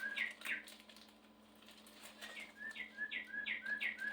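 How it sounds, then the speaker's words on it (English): A bird clock sounds its hourly chime as recorded birdsong, a series of quick chirping whistled calls in bursts, a pause, then a faster run of repeated chirps, modest in volume indoors. "that's our bird clock again."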